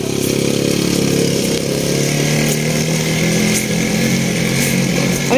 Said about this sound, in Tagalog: Karag-karag daw, pero okay naman yung motor niya.